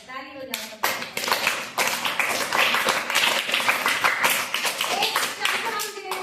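A classroom of students claps together in a steady, fast burst of applause lasting several seconds, close and loud, with a voice heard briefly at the start and end.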